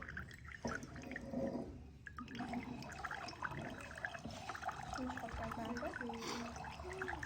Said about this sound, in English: You have an activity of listening to the water